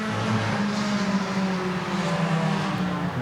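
Race cars on track during a race, a steady, loud mix of engines droning and shifting pitch as cars run close together and pass, with no pauses.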